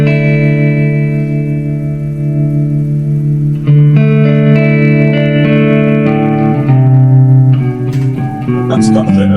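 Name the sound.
electric guitar with amp reverb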